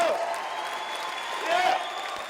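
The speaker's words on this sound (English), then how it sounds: "Can we give them a big round of applause?" Applause for graduates fills a 2016 commencement ceremony at GCC in Batavia, NY, as a steady wash of clapping from the audience with whistles and cheers riding over it, swelling slightly near the end.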